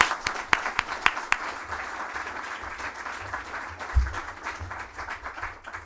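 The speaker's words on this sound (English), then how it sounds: "Let's give them a big hand of applause." Applause from a conference audience at a datacenter forum, a mix of scattered sharp individual claps and a softer steady wash of clapping that gradually thins out toward the end, with faint murmuring underneath.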